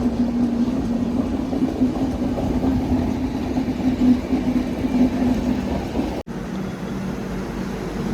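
The Tatanagar Express sits held at a signal on the main line of a Kerala railway, its engine idling with a steady low hum and drone, moderately distant, with a brief dropout near the end.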